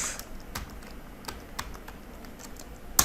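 Quick, close clicks on a computer keyboard as a layout name is typed, a short rhythmic run of keystrokes ending in one louder tap, with no talking.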